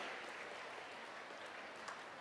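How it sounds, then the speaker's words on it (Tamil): Audience applause for a student at a college presidential address in Trichy, a steady wash of many hands clapping, distant and faint throughout. "ஜோராக கைதட்டுங்க"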